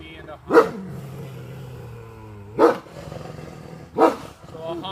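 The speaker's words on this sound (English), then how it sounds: "So Ahanu is making all the noise. Ahanu is complaining." Captive wolves at Fort Rickey growl and grumble in low, complaining tones, with three sharp barking outbursts spaced about one and a half seconds apart, and someone speaking throughout.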